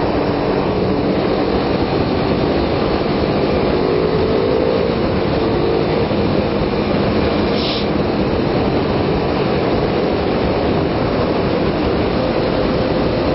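A Kawasaki Ninja 250 motorcycle engine under hard throttle, a loud, continuous droning roar mixed with rushing wind and road noise, steady throughout with no talk.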